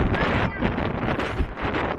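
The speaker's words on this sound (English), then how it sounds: "as the big gust of wind here, Kansas wind picks up, the summer south wind" A big gust of summer south wind on the Kansas plains roars across the microphone at a ball game, a dense, loud continuous rush that swells and dips without any clear talk.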